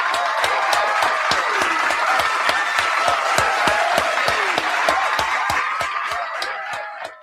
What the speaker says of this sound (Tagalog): bigyan naman natin ng palakpak si Ombudsman